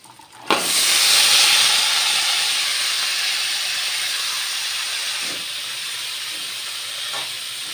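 Bottle gourd pieces go into hot oil seasoned with turmeric, setting off a loud, close sizzle that bursts in suddenly and then settles into a steady, slowly easing hiss.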